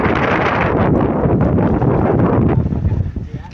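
Strong wind roars and buffets the microphone with a steady rushing noise, likely with rain mixed in, loud and continuous, easing slightly at the end.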